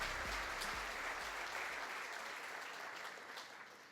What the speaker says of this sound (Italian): Allora accogliamola con un grande applauso, la CEO di GlobalWafers Ltd, Doris Hsu.